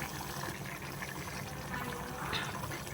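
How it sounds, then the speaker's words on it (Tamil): A hundred grams of ghee is poured over cooked rice in a home kitchen. It gives a steady, soft liquid rush with faint sizzling throughout, close by and fairly quiet, and no one speaks. "நூறு கிராம் நெய் எடுத்துருக்குறேன் எல்லாம் ஊற்றி விட்டு தம் போட்டு விட்டுலாம்"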